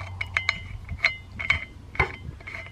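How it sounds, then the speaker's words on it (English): Threaded metal sections of a Yeacool portable folding shovel being screwed together, giving a quick series of close, light metallic clicks and ratcheting ticks over under three seconds. "Screws on pretty easily."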